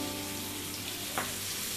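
Stuffed green chillies cook in a little oil on a low flame, giving a steady, soft, close sizzle throughout with a faint stir partway through.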